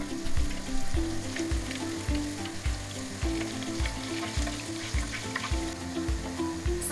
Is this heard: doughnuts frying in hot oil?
yes